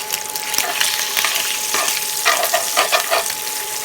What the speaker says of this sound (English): I'm going to begin to chop the sausage apart as I cook it